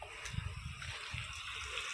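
Water splashes and gushes steadily from an electric motor pump's outlet at moderate distance, a continuous wet rushing with small bubbling surges.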